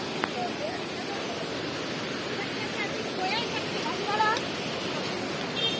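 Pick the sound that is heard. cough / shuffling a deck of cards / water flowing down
water flowing down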